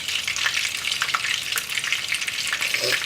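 Shrimp fry in a hot pan while being made for sushi, a dense, close, steady sizzle with crackles and pops and a few stirring scrapes, no talking.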